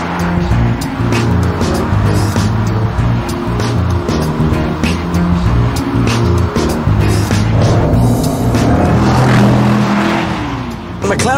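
A Mercedes SLR McLaren engine drones loud and close while driving, a rich rumble that rises and falls with the throttle, and someone talks over it throughout.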